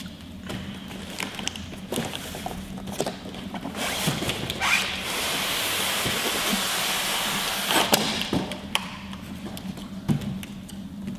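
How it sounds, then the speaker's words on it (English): Packaging of an Airwheel X3 electric unicycle being opened, with scattered close taps and handling knocks around a long steady tearing or ripping hiss in the middle, no voices. "Carefully open the packaging."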